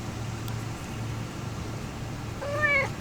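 A pet cat gives one short, clear meow near the end, close by, after a stretch of low steady background hum and faint traffic-like rumble.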